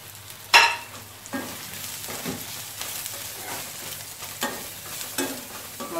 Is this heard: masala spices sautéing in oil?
yes